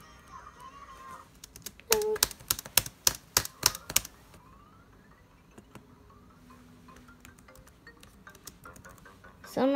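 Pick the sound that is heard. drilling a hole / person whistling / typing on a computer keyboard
typing on a computer keyboard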